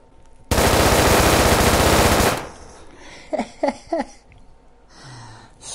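Small minigun firing a sustained burst of just under two seconds, a loud, dense rapid rattle that cuts off abruptly, followed by quieter breathy sounds and a few short vocal exclamations.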